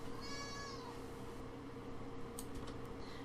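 A house cat gives a single short meow early on, heard over a steady hum of room or fan noise, followed by faint rustling.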